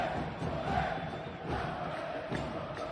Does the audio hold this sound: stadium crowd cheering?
yes